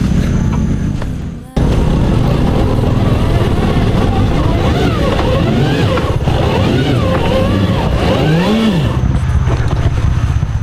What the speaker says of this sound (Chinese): 除了后轮打滑空转之外